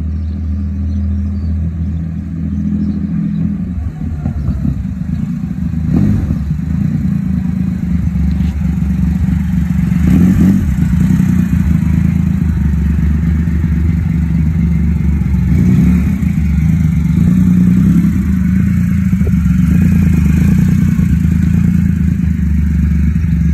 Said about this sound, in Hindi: एनलाइन 3 सिलेंडर का जो साउंड भाई वो भी भाई बहुत ज्यादा खूबसूरत साउंड है